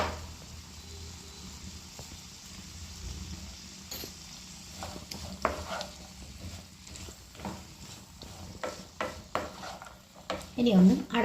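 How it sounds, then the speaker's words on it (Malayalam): Potato and beans masala being stirred in a pan, with scattered scraping clinks of a spoon against metal over a soft background, growing busier toward the end; a voice speaks intermittently. "ഇനി ഇത് നമുക്ക് ഇളക്കി കൊടുക്കാം."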